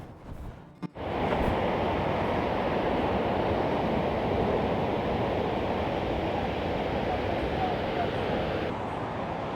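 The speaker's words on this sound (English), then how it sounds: "Wow, you can just hear the power of this waterfall." A waterfall near Juneau, Alaska roars with a loud, steady broadband rush that starts abruptly after a brief rustle and holds unchanged for several seconds, close and continuous, with no talk.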